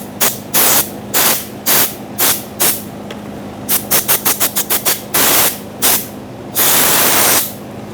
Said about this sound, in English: Up here where the gasket goes, I'm gonna blow some compressed air